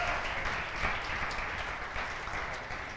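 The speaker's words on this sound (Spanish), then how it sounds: "Ahora aplauda a las mujeres." A church congregation at a Sunday celebration service applauds the women, a dense, even patter of many hands heard from a distance, soft and sustained throughout.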